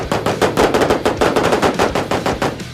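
Rapid rifle fire at close-range targets rings out in a tight, steady string of about a dozen loud, sharp shots with no talking.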